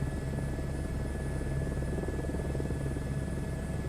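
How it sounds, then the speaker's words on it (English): A helicopter from the Microsoft Flight Simulator 2024 game drones steadily with a constant rotor and engine hum and a thin high whine, loud and unbroken with no voices. "And now I remember why I don't like flying helicopters."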